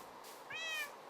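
A cat gives a single short, rising-then-falling meow in a survival video game, faint and alone over a quiet background.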